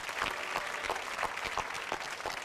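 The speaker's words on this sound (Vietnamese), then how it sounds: "Một tràng pháo tay nữa chào đón tất cả quý vị." An audience claps steadily in a sustained round of applause, with no voices over it.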